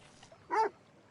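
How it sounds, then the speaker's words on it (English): A single short dog bark from Red Dead Redemption 2, close and brief, standing out against a quiet background. "Can I finally pet the dog?"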